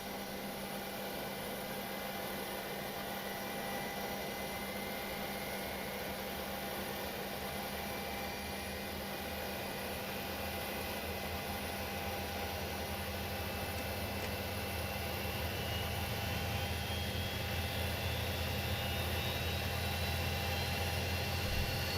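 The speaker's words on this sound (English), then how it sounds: "Let's go ahead and ground engine 1." A Boeing 727 engine spools up in a flight simulator, a steady whine and hum with a rising tone that grows slowly louder and deeper toward the end.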